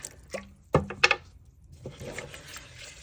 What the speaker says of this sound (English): Pop a bit more water in there